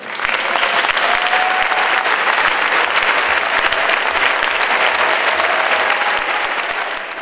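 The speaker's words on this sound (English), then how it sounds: "they might give you a round of applause to thank you" Large crowd at the Wilson High School graduation in DC applauding to thank honorees, a loud, sustained wash of many clapping hands that holds steady for several seconds before easing slightly at the end.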